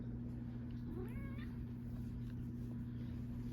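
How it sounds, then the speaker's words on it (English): A cat meows once, a short rising-and-falling call with a clear harmonic tone, over a steady low household hum. "Why are you meowing at me?"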